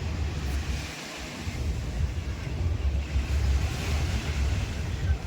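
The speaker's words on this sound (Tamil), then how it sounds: "இதுதான் துபாயோட பீச்." Surf washing ashore at Dubai Marina beach, a steady broadband roar of waves with wind buffeting the microphone, continuous and fairly loud throughout with no one talking.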